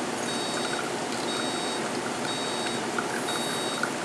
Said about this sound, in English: hear it continually beep at you until you're done with program mode